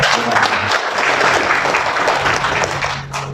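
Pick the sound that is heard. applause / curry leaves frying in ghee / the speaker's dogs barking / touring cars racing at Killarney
applause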